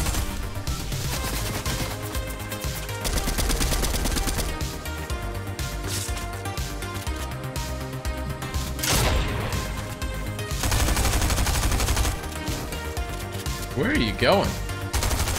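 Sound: SMG gunfire in the video game Fortnite

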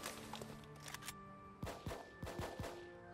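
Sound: squad gunfire from the video game Full Spectrum Warrior

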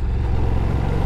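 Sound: Ducati Diavel V4 motorcycle engine running below 3,000 revs in third gear

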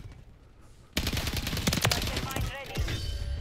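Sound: STG-44 gunfire in a video game

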